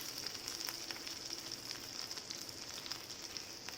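Stuffed okra sizzles steadily in hot oil in a pan over medium-low heat, a continuous close crackle with small popping spatters throughout and no voices.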